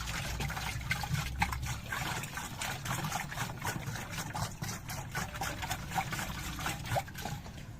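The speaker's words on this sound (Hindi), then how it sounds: "गोली को पानी में डालने के बाद पानी को अच्छे से हल कर लें।" Water swirled and stirred to dissolve a plant fertilizer tablet, a continuous close trickling and sloshing with small splashes and clinks throughout, alone without any voice.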